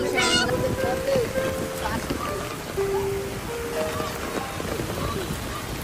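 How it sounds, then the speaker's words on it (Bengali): Steady autumn rain pattering over a village dirt path and nearby paddy fields, a dense even hiss throughout, with faint voices and tonal calls mixed in. "বৃষ্টিতে ভিজছি, কাঁচা মাটিতে হাঁটছি"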